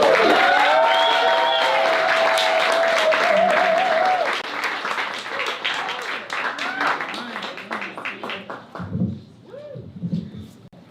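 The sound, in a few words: applause for performer Nikki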